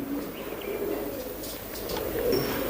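Rajan's palle-breed pigeons coo softly in a short, low murmur, faint and close against light background noise.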